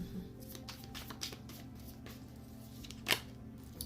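Quiet riffling and soft slides of tarot cards being shuffled by hand, a few brief rustling bursts and one sharper snap near the end, close and faint, with no talk.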